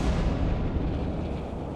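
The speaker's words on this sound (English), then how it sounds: "An explosion rocks the bathyscaphe." A deep explosion shudders through the Trieste bathyscaphe far down in the ocean near the Mariana Trench, heard as a heavy, sustained low rumble of even loudness with no voices.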